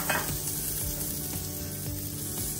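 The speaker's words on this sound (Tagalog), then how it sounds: "So gigisahin ko lang siya ng mga 1 minuto." Sliced onion, ginger and tomato sautéing in hot oil in a pan, a steady close sizzle with a few soft stirring scrapes, no voices.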